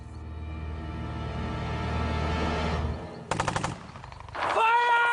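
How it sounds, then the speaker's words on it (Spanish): Rapid automatic rifle fire from border guards bursts out loud and close, a dense rattling volley of many shots that cuts off, followed by a few scattered sharp cracks and a final burst. "6 guardias fronterizos dispararon un total de 176 tiros."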